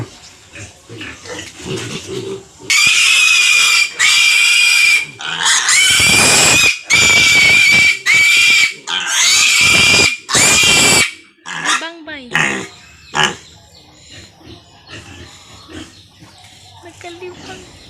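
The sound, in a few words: piglets squealing while being injected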